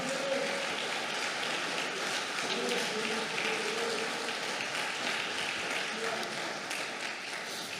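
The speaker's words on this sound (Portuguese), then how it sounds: "Ou se você puder aplaudir o nome do Senhor." A church congregation applauds, a dense, steady wash of clapping that holds at an even level throughout with no voices on top.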